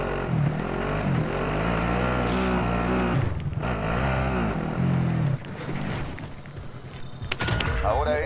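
A motorcycle engine in the Call of Duty Modern Warfare video game runs with a steady, fairly loud drone that rises and falls a little, mixed with game noise and spoken voices.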